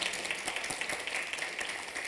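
Steady audience applause at a women's leadership event, a continuous soft patter of many hands clapping at moderate distance with no voices over it.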